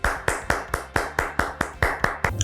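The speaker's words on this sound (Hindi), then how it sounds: "आपकी तालियों में तशरीफ लाते हैं" Audience clapping to welcome Bishop Jonathan Rehmat onto the stage at a church gathering, heard as about a dozen evenly spaced, sharp claps in a steady rhythm, fairly close and clear with no talking over it.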